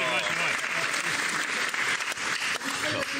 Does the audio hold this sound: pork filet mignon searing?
no